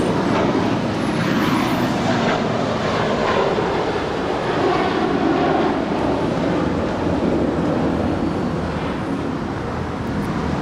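An eight-year-old American Airlines Airbus A321 at Los Angeles LAX, a loud, steady jet engine roar that holds throughout at close range with no talking.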